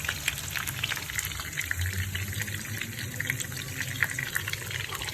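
Lentil fritters (bora) made with gram flour and baking soda frying in hot oil, a steady close sizzle with scattered crackling pops throughout.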